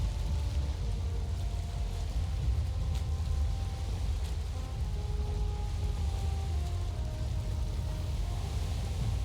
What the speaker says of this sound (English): It's raining, which might make it a storm